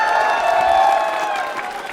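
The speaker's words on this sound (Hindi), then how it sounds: "अर्चना जी के लिए तालियां जोरों से" A studio audience at a quiz show for accounts officers claps for a contestant in a dense, steady wash of applause that holds at an even loudness throughout.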